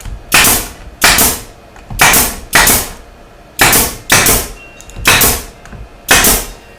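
A pneumatic stapler fires eight crisp shots into pallet wood in a fairly steady rhythm, each bang loud and close, with no voices.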